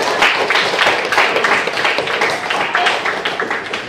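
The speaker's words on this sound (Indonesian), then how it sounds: "Kita beri tepuk tangan ya" A high school Indonesian-language class applauds a presenting group, a steady, dense wash of many hands clapping together throughout, fairly close and sustained.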